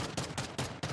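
Gunfire in the video game Warzone 2.0 sounds as a quick run of about five sharp, evenly spaced shots within one second, fairly quiet and with no voices.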